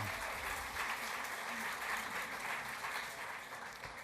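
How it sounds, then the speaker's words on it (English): Audience at an awards ceremony breaks into sustained applause, a dense even patter of many hands clapping at a moderate distance for several seconds without a break. "Sure, clap for that."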